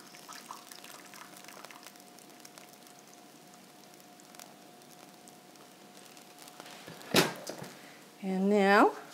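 Chicken fat poured off from a pan, a faint liquid trickle under a steady hum, followed by a clatter and a person speaking at the end.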